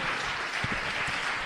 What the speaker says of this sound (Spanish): Fuertes aplausos a nuestro Dios, hermano